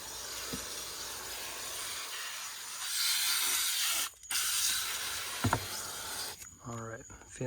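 Fabric cleaner sprayed inside a car, a steady hissing mist lasting a few seconds with a brief pause and some handling knocks, close to the microphone.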